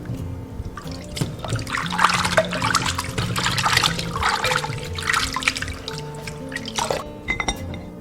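Boiled chestnuts, cooked with ginger slices, are rinsed clean under running water: a steady trickle and splash with scattered drips, close by and moderately loud for about seven seconds before easing off, with no talking.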